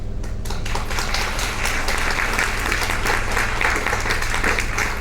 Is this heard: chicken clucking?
no